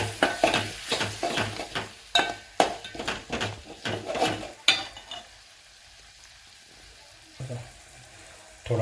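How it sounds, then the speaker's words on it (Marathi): A spoon scrapes and clatters rhythmically in a pan while Ravas fish curry with Agri Koli masala and garam masala is stirred, the strokes close and sharp, fading to a quiet simmer before a few final knocks. "परत थोडा हलवून घेऊया."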